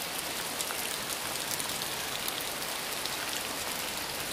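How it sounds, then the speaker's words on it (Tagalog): Heavy rain pours down steadily, a dense, even hiss of water striking surfaces that stays loud and unbroken throughout, with no voices. "Sobrang ulan na po, basang-basa na."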